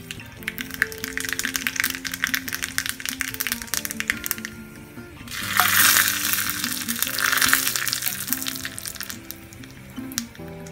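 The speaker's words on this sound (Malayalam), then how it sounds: "ഇതിലേക്ക് കടുകും ചുവന്ന മുളകുമാണ് വറുത്തിടാൻ പോണത്." Mustard seeds and red chillies frying in hot oil as tempering for mint chutney, a crackling, popping texture that swells into a loud hissing sizzle partway through, then settles.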